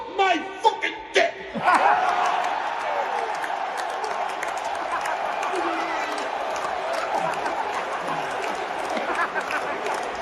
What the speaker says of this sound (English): The crowd straight up exploded.